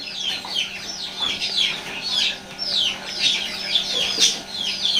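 Tiger breed chickens and chicks cluck and peep continuously at a poultry sale, a dense overlapping chorus of high chirps close by with no talking.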